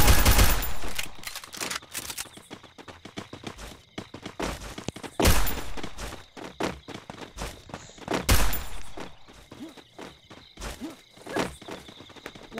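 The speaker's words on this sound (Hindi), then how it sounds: "सबसे पहले गोलियां मारते हैं।" Video game gunfire: sharp shots and short automatic bursts cracking out at intervals, loud and close, with quieter footsteps and thuds between them.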